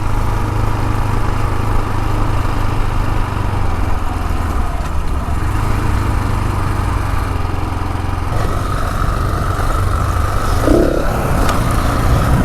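A KTM 701 Enduro single-cylinder motorcycle under way, its thumpy engine droning loud and steady with wind rush throughout, pitch wavering slightly as the throttle changes, no talking.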